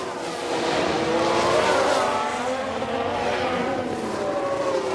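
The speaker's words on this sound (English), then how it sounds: "It's a crash, and it's more than one car." Several race cars collide in a multi-car crash in the F1 Manager 2022 racing game; a steady, loud roar of engines and tyre noise runs throughout, with no clear separate impact.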